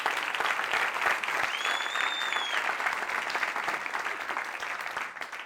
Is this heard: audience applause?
yes